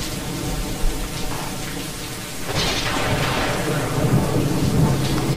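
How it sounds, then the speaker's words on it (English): A homemade rain stick of paper towel tube, foil and dry rice or beads being shaken gives a continuous dense rushing patter, like heavy rain, close and steady and swelling slightly in the second half. "Rain sticks."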